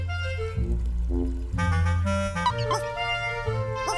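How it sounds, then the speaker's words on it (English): A cartoon pet dog belonging to a ballerina character in an animated children's show yips and whimpers in short tonal bursts over a continuous music-like background. "Ballerina and her pet dog."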